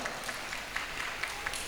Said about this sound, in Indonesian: Tepuk tangan buat wisudawan kita semuanya.